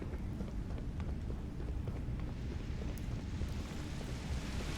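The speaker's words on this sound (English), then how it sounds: "So this is the waterfall I thought it was." A waterfall roars in the video game Starfield: Shattered Space inside Misthaze Cavern, a steady broadband rushing wash of falling water that fills the space continuously at moderate loudness, with no talking.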